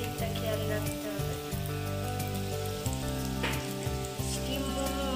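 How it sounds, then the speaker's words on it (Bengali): Chicken momos deep-frying in oil for a restaurant-style fried momo, giving a steady, loud sizzle throughout with faint crackles, while low music or background tones run underneath. "এইভাবে এটাকে উল্টে পাল্টে ভেজে দিতে হবে দুটো বিটে যাতে ভালো করে ভাজা হয়"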